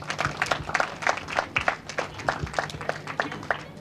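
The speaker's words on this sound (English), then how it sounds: "Please welcome them with a huge round of applause." Audience at a high school career fair stage event clapping to welcome guests, a moderate, steady patter of many hands heard from a distance without a voice over it.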